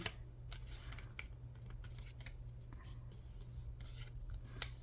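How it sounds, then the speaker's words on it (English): A book page being folded and creased by hand, giving close, quiet paper rustles and rubbing strokes with a few sharper crinkles. "I'm gonna fold this up"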